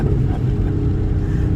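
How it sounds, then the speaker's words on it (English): Dodge Super Bee with a 392 V8, a deep steady exhaust drone booming inside a tunnel, continuous and close with no talking. "Get you a little bit of some exhaust note here for those that like to get the music to your ears."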